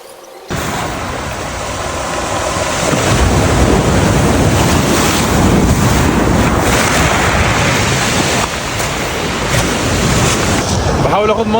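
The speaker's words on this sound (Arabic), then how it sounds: "صوت الموج جامد جدا جدا" Sea waves surge onto the shore at Batumi with a loud, continuous roar mixed with heavy wind buffeting the microphone, swelling after a brief quieter start and staying dense throughout.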